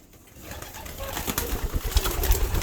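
Young racing pigeons being loaded into a loft section, with low cooing and bursts of wing flapping that build steadily louder and busier toward the end.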